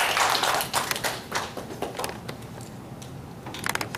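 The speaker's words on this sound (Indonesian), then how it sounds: "Tepuk tangan dulu buat semua" Applause from an audience closing a panel discussion: dense bursts of clapping, loud at first, then thinning into scattered claps with a brief swell near the end.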